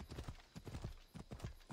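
Horse hooves clip-clop at a steady trot in the video game Assassin's Creed Odyssey, a regular rhythm of soft low thuds moderately close and fairly quiet, with no talk over them.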